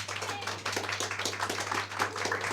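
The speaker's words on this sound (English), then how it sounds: "applause for our Greek friends" Small round-table audience at an event on LARP, politics and civic engagement clapping for Greek guests, a short burst of scattered, fairly close handclaps over a steady low electrical hum.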